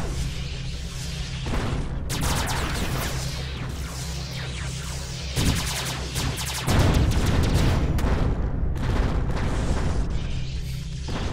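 Missile blasts and booming impacts in the space combat game Beyond Sol, a rumbling low bed broken by several loud bursts and crashes, the heaviest one rolling in near the end.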